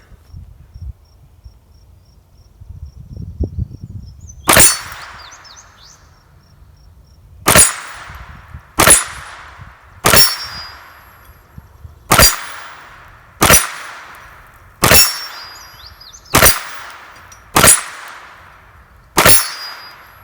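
Ruger Mark IV .22LR pistol with a compensator firing at steel gongs downrange, about ten sharp shots spaced a second or two apart, each followed by a bright metallic ring, with quiet outdoor ambience between.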